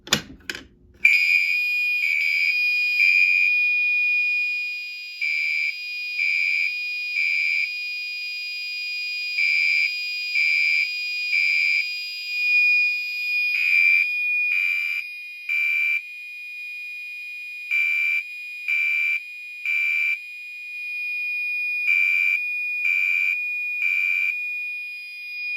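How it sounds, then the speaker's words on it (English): A fire alarm system set off from an Edwards pull station sounds a shrill, steady electronic tone broken into repeating groups of short pulses, loud and unaccompanied, after a brief click at the start. "I'm going to pull the Edwards pull station."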